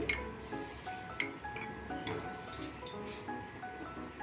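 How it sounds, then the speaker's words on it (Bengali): Eggs being coated with salt and turmeric powder in a bowl give off light, repeated clinks and soft squishing taps, steady and close over a low background hum. "এখন ডিমটাকে ভালো করে নুন হলুদ মাখিয়ে নিচ্ছি"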